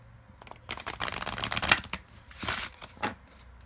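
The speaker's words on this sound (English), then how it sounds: "Let's do a little bit of a shuffle" Tarot cards being shuffled in quick riffling bursts, close and fairly quiet, with a pause and a couple of shorter shuffles after.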